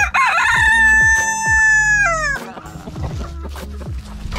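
A farm rooster crows loudly and close, one long sustained cock-a-doodle-doo call followed by clucking and scratchy farmyard noise.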